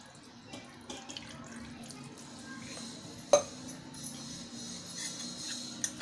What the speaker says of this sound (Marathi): आता आपण कुकरमध्ये 1 तांब्या पाणी टाकूया।